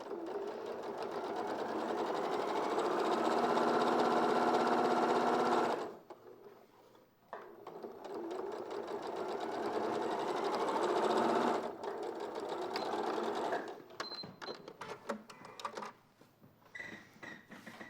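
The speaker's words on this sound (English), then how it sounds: "then just top stitch it down" Sewing machine top stitching along a fabric edge, a close, loud whirring run that pauses, restarts in a second long burst, then breaks into shorter stop-start stitches.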